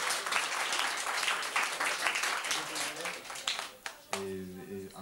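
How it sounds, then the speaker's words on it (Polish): A theatre audience at a 1995 show in Jędrzejów applauds in a dense, steady wash of clapping that fades out near the end as a voice and a tonal sound take over. "Jeszcze raz może wielkie brawa."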